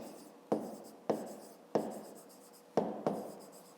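Chalk taps and scrapes against a classroom board during a fifth-grade maths lesson, five distinct strokes close by, each a sharp hit trailing into a short scratch, with quiet pauses between.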